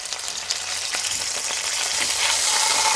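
Beef sears in hot oil in a steel pot, a steady, close, bright sizzle and crackle that keeps on without a break and grows slightly louder toward the end.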